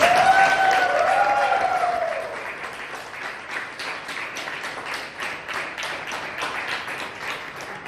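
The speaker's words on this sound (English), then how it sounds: "can we give the guests another round of applause to them?" Applause for the guests at a Toastmasters club meeting, a room of people clapping in a dense patter, first under a ringing tone and then fading into lighter, scattered claps.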